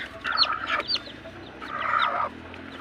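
Backyard hens cluck close by in two short bouts of rapid, overlapping cackling notes, with no talking.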